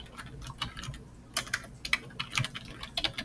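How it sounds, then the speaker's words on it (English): Quick bursts of keystrokes on a computer keyboard, light close clicking in short irregular runs with brief pauses, faint and alone. "I'm going to backspace and type something"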